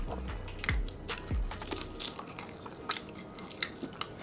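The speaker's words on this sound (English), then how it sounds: "I'm hearing that crunch." Biting and crunching into Hennessy southern-style fried chicken wings, a handful of sharp, close crunches and chewing sounds, with low voiced sounds at the start and scattered clicks afterwards.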